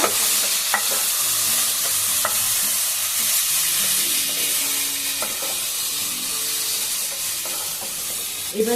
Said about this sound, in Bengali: বিরিয়ানি মশলা বেশ সব মিশিয়ে নেব